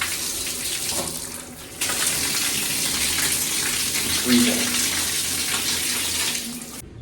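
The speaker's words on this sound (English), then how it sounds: "So there was your waterfall and rainforest shower" Steady rushing water from a waterfall shower in a cruise ship spa pours continuously like a strong shower spray, loud and close, with a faint voice briefly underneath.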